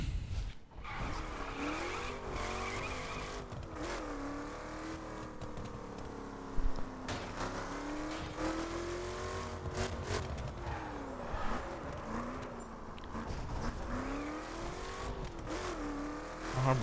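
A car in the racing game The Crew revs and skids continuously, engine pitch rising and falling with repeated tire squeals, loud and close throughout, with no talking over it.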